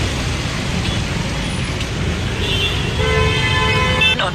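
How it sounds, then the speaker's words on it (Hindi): Dense Mumbai road traffic fills the air with a constant engine roar and rumble, while several car horns toot and sound in bursts, a sustained honk stretching through the later part. "मुंबई का ट्रैफिक एज यूजुअल जाने दे ही नहीं रहा"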